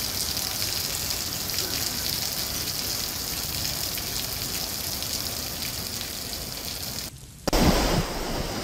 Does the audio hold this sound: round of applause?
no